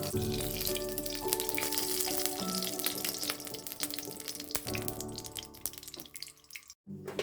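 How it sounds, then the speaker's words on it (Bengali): Mustard oil goes into a hot pan for spicy Maggi, giving a loud, dense crackle and hiss that fades slightly before cutting out near the end. "আমি একটু সর্ষের তেল অ্যাড করছি।"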